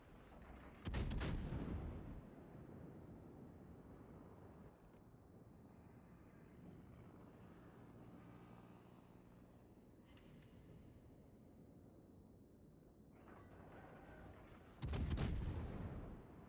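Two loud booming salvos from warship main guns in World of Warships open and close the stretch, with a steady low rumble of engine and sea filling the long quieter middle.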